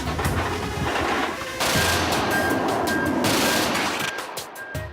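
30mm single-barrel cannon on a MiG-29 tactical fighter firing at 1,800 rounds a minute, loud rapid bursts of gunfire with brief gaps between them, alone without talk.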